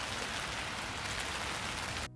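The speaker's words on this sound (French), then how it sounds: "l'ASMR de pluie" Rain falls in an ASMR recording, a dense, even hiss of drops pattering on a surface, close and constant for about two seconds before cutting off abruptly.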